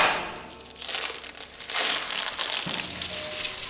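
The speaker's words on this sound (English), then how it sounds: "Place the roll of netting in the compartment so the netting feeds off the top as shown." A roll of net wrap is set into a round baler's compartment, giving close crinkly crushing and rustling of the plastic netting in uneven bursts over several seconds, with no voices.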